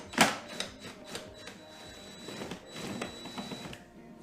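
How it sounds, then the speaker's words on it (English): A 10mm socket wrench ratchets on bolts of a Toro TimeMaster 30 mower, giving a sharp click and then repeated quiet ratcheting clicks close by, with no talking. "we're gonna go ahead and take these 10mm bolts off. And I'm taking a 10mm socket."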